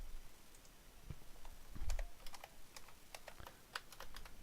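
Quiet clicky typing on a computer keyboard while editing a WordPress website, irregular light keystrokes in short clusters, close and alone without speech.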